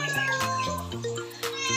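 A frightened pet cat named Apu meows repeatedly while being bathed in warm water, its cries loud and close over steady, tonal background music.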